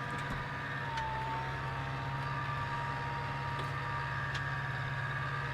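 A farm vehicle's engine runs steadily after shifting up a gear, a continuous low drone with a faint whine layered on top, held at an even loudness throughout with no talking.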